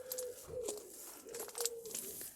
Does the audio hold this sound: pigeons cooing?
yes